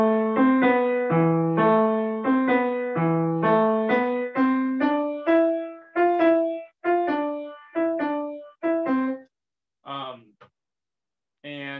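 A dramatic, fiery Russian piano melody played smoothly legato as one long slur, with notes flowing into each other before thinning into a few sparse, isolated tones near the end.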